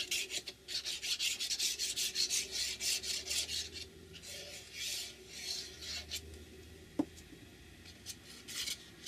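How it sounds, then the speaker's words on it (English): A paper envelope glued onto a journal page and rubbed down by hand, steady rhythmic rasping strokes close up, then slower pressing and a single tap. "Now I glue the envelope on."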